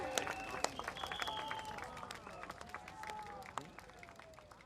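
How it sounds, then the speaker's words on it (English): An outdoor political rally crowd on a field in Singapore claps faintly and unevenly, with scattered sharp claps and murmuring voices in the distance. "Can we please give them a big, warm round of applause, everybody?"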